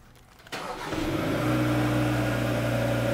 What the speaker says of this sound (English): Lock, press and hold start, three seconds.